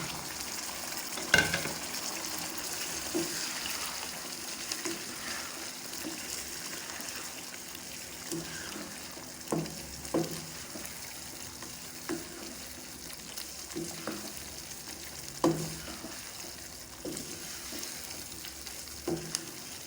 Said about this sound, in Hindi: पाँच मिनट हो गए हैं, हम इसको भून रहे थे। अब ऑयल भी ऊपर आना शुरू हो गया।